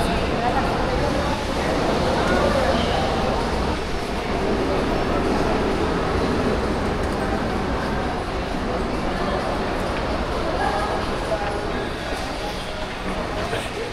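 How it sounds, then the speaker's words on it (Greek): Medellín metro train riding along, a steady broadband rumble and rattle of the carriage running continuously throughout, fairly loud and close with a faint murmur of voices underneath. "Πάμε να δούμε πόσο ασφαλής είναι το μετρό του Μεντεγίν."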